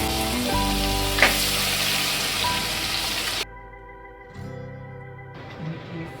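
Finely chopped onions frying in a pan with dry spices for methi mutter pulao, a loud close sizzle that drops abruptly to a quieter crackle midway, then picks up again toward the end.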